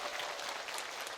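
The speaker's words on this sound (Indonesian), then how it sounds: "tepuk tangan dong untuk istri saya" Crowd at an outdoor Islamic religious gathering on a football field clapping together, a brief, dense burst of applause heard on its own.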